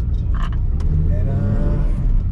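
A Kia Picanto pulls away in first gear on an off-road stretch, its engine rising steadily in a close, continuous drone for a couple of seconds.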